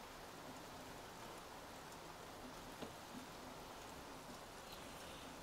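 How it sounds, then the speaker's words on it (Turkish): Steady rain falls outdoors in Antalya, a soft continuous hiss that holds at an even, fairly faint level throughout with no voices. "Durmayan bir yağmur."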